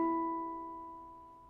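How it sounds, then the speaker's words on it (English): A Halo Aegean handpan chord, with the high E struck on the edge of its tone field to bring out the fifth harmonic, rings in a soft, steady decay of clear, sustained tones. "I'm also going to be striking the high E on the edge of the tone field to accent the 5th harmonic."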